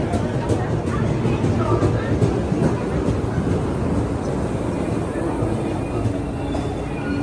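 A train arriving at a station in Japan rumbles steadily nearby with a low, continuous roar and faint rail clatter, filling the whole stretch without a pause.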